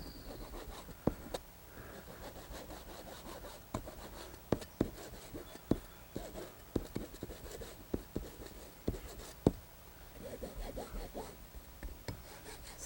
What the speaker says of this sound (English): you take your knife and have cut in here on the other side of the bridge